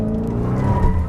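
Tires on a 2020 Dodge Charger Hellcat Daytona with 718 hp slide and scrub in a loud, close, continuous skid over a low engine drone, one brief burst with no talking.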